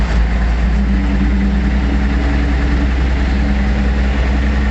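A tractor engine runs at a steady idle after being started, with a loud, continuous low rumble and engine vibration and no talk over it.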